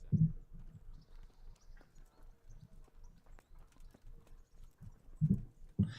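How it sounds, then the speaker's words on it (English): Horse hooves clip-clop at a steady walking rhythm in the medieval video game Kingdom Come: Deliverance, soft and fairly quiet, with a few heavier thuds near the start and end. "I'm still riding this fucking shit horse."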